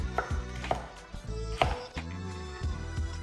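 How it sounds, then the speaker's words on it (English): Vegetables sliced into thin strips on a board, the knife striking in a few close, uneven strokes with short pauses, near and clear with no talk. "I use some vegetables that I like to include, which I cut into thin strips"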